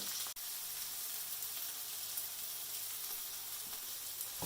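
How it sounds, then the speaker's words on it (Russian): About 150 grams of onion frying in a little vegetable oil in a pan, a steady, faint, close sizzle with one brief dropout near the start. "Лук обжарили до золотистого цвета"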